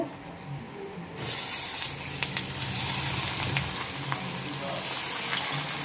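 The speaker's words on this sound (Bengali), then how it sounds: "এখানে বড়া বাজব" Fritters (bora) hit hot oil in a pan: after a quieter second, a loud, dense sizzle starts and holds steady with occasional sharp pops and spatters, close up and without talk.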